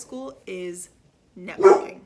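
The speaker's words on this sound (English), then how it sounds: "Sorry, so that's my dog." A pet dog barks loudly and protectively indoors, a few sharp barks near the end following speech, close to the microphone.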